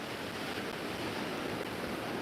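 Choppy sea surf at the beach in Cala Millor, Majorca, a steady broadband wash of waves with wind noise on the microphone, continuous and fairly loud with no distinct breaks.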